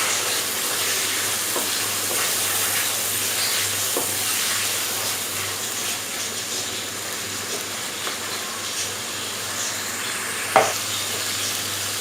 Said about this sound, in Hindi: वो इसमें डाल देंगे।